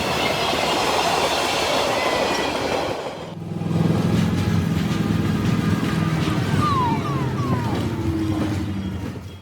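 A moving train passes on rails with a loud, close rumble, rhythmic clickety-clack and brief wheel squeals. The noise eases for a moment, then swells again and carries on steadily.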